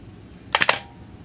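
A Pentax P3n 35mm film SLR with a 50mm f/2 lens fires its shutter once, a sharp close-up mechanical clack made of a few rapid clicks in a quiet room.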